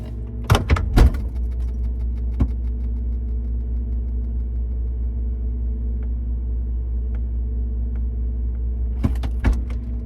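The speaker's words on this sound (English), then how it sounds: "I'm going to close the door again to get more cold into it." A door shuts with a couple of sharp knocks early on and another pair of thuds near the end, set against a steady low hum in a quiet room.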